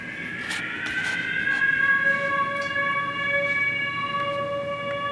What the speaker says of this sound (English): I brought in like just a little siren alarm sound just to give it some suspense.